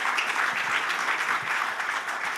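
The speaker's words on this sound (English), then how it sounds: "Give them a round of applause, maybe." Applause from an audience at a Youth Progress Index launch event as panelists come up on stage, a dense, steady wash of many hands clapping at once, fairly loud and continuous with no voices over it.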